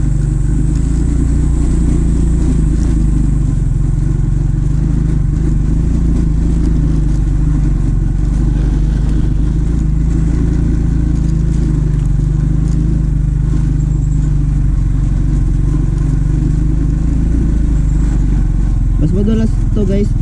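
A basic budget motorcycle ridden over a rough road: a loud, continuous mid-pitched engine drone with steady low rumble, sustained for the whole stretch, rising slightly in revs near the end.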